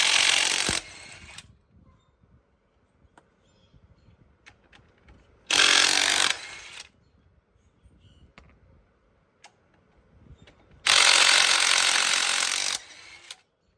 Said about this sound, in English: I have this portable impact gun, and I have a 22mm socket on it